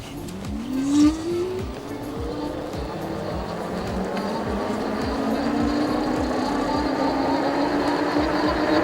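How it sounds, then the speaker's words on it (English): Mukkpet Suburban electric bike motor on throttle alone, climbing a steady incline: a whine rising gradually in pitch as speed builds, with wind and road rumble underneath, fairly close and steady, no voices. "The motor is a little bit noisy once it starts"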